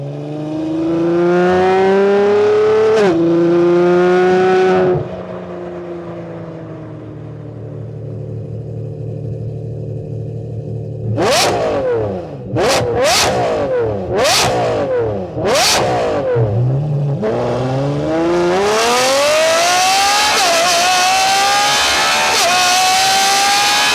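Lamborghini Revuelto with a Gintani exhaust revs loudly from a steady idle, then snaps through several sharp throttle blips before accelerating away hard with a rising, high-pitched engine wail, close and dominant throughout.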